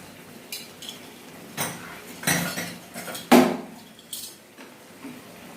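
A utensil stirs an egg and milk mixture into chicken masala in a metal pan, giving a series of close, irregular scrapes and clinks with one sharp knock near the middle.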